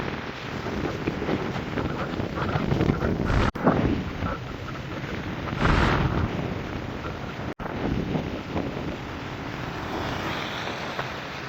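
A strong cyclone wind in Jaffna roars continuously against the microphone, loud and blustery, surging in heavy gusts with a churning rush like surf beneath.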